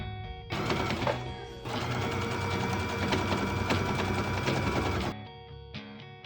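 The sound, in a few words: sewing machine stitching in the ditch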